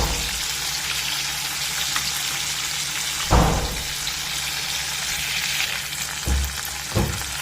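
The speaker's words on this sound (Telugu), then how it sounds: "ఇందులో మెంతి కూర, కరివేపాకు కలిపి వేసేసుకుంటున్నాం." Fenugreek leaves and curry leaves frying in hot oil, a steady loud sizzle with a few sharp bursts of spattering as the leaves are stirred, with no voices.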